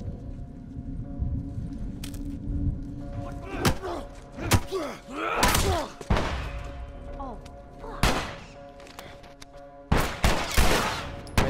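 Gunfire from the video game The Last of Us Remastered, played on PS4, comes as sharp, loud shots in irregular bursts and volleys. Grunts and other game noises sound between the shots.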